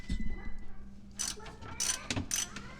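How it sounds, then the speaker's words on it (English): A hand ratchet fitted with a 12mm socket backs out skid plate bolts on a Nissan Titan XD pickup. It gives several quick bursts of sharp metallic clicking up close, broken by a few brief pauses. "this skid plate takes a 12mm socket, and I'm just going to take these bottom 3 bolts out"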